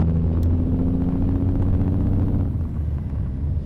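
Kenworth W900 truck with a Cummins N14 engine pulling under load in American Truck Simulator: a deep, loud diesel rumble with a throbbing low drone that holds steady, then eases slightly near the end, with no talking.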